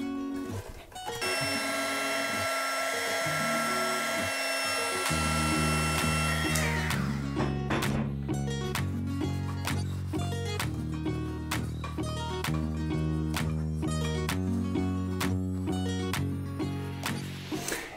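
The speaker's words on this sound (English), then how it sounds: "It's easier to polish it on the frame so it looks new and shiny." Power tool polishing a Klein Adroit bicycle frame during paint restoration, a sustained close mechanical whine that shifts pitch and load in several stages, steady and loud without speech.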